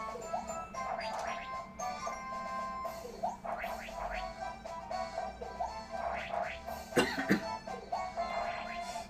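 A man coughs several times in short bursts during a Mario Party 1 game session, the coughs loud enough to shake a projector, heard over steady game sounds.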